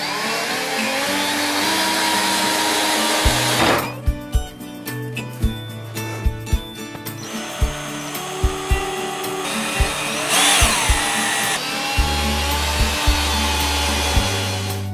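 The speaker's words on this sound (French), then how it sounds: "Là par contre je vais tenir si tu veux le visser." A power screwdriver drives screws into pallet-wood slats while building a bench, bursts of whirring motor with sharp thuds and knocks against the wood, loud and close, interspersed with handling and rubbing noises.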